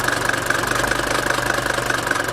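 Mercedes T1 van with an OM601/OM602 diesel engine idling, a close, steady, clattering knock with a dense, even rhythm and no speech over it.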